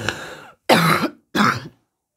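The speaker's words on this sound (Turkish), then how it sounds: "Arada öksürmek zorunda kaldığım için beni affedin" Three harsh coughs from a woman giving a coffee-cup fortune reading indoors: a drawn-out first burst, then two sharp, close coughs in quick succession, alone with no speech.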